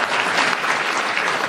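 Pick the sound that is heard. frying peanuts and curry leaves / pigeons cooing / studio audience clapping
studio audience clapping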